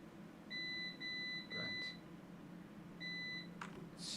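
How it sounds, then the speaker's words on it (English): A run of short electronic beeps from a computer, three in quick succession, a pause, then one more, steady and fairly close. "Stop beeping, computer."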